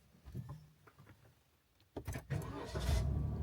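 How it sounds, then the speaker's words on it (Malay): A car engine starts after a GPS tracker engine cut-off is restored: faint clicks first, then the starter cranks and the engine catches and settles into a louder, steady idle, all close by. "Engine dah hidup ah"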